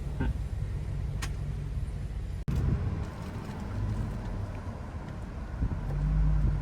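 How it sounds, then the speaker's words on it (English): Road traffic on a Beverly Hills street, with cars passing as a steady wash of engine and tire noise, buffeted by wind on the microphone, and a heavier vehicle rumble building toward the end. "Ooh, looks like we have some traffic right here."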